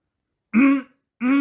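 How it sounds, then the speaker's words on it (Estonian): Two short, close, throaty coughs, the first ending with a rasp, separated by a brief silence. "Ütles Rakett ja hakkas köhima."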